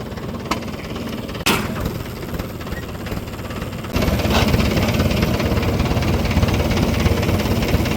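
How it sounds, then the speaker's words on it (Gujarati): A tractor engine rumbles and idles with a knocking beat, pulling free after being stuck, then grows louder and rougher after a few seconds, with a couple of sharp clicks early on. "ફાઇનલી ટ્રેક્ટર નીકળી ગયો"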